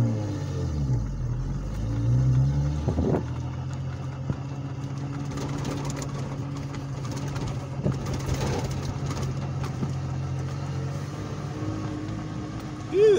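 A 4x4 truck with a Toyota 7M Supra engine in first gear and high-range four-wheel drive climbs a foggy hill. The engine rumbles low and steady, with shifts in pitch under load. A voice speaks briefly over it.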